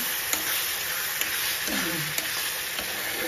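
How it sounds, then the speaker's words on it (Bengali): Kochu leaf bora with dried fish frying in oil in a pan, a steady close sizzle with occasional light scrapes of a spatula stirring, and a faint voice briefly heard under it. "আমি নিজে এখন নাড়া করে ভাজতে আমি হালকা ভাজে"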